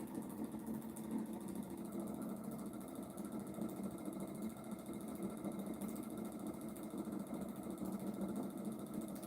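A pulse motor running at reduced speed makes a steady, low mechanical hum with a fine, fast pulsing texture that continues unbroken, fairly faint and with no other sounds.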